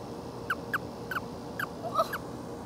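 Frog chirping in a backyard: six or seven short, thin, high chirps spaced about a quarter second apart, faint and close, over a quiet outdoor background.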